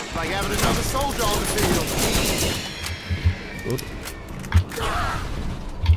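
Enemy gunfire in the Borderlands shooter game, sharp bursts and scattered single shots crackling over a busy battle din, with someone talking over the action.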